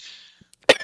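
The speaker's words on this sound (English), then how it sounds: "I have a terrible cough." A single sharp, loud cough from someone who is sick, coming right after a faint hiss and a few small clicks.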